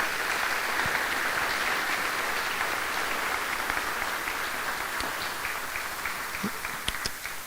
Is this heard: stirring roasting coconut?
no